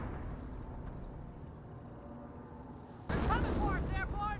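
A blast from a Company of Heroes battle cuts in sharply after a stretch of low rumbling combat noise, followed by loud sustained crackling and debris, with scattered higher whistling tones on top.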